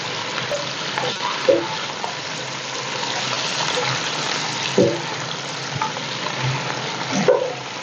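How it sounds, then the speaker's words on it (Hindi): Chicken necks sizzle and fry in a pot for yakhni in a continuous close crackle, broken by a few clanks of a stirring utensil against the pot. "गर्दनें ऐड करने के बाद इसे जो है 2 से 3 मिनट या 4 मिनट अच्छी तरीके से पका लेंगे"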